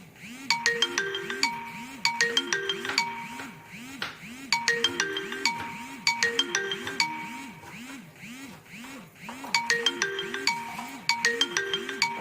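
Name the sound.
phone ringtone ringing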